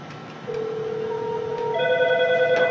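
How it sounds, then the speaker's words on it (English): An office desk phone on a CS1000 system rings loudly and close with electronic warbling tones, joined by further layered ring tones from other devices as an extension call comes in. "Notice the phone's ringing, the PC's ringing."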